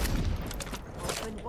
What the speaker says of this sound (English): So I do have the automatic shotgun